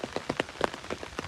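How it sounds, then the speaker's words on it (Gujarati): Rain falling nearby in a dense patter of drops striking a hard surface, with a few louder irregular hits standing out against a steady wash, and no one speaking. "વરસાદ તો ચાલુ છે"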